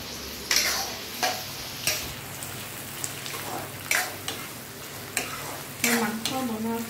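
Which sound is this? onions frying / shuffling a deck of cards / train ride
onions frying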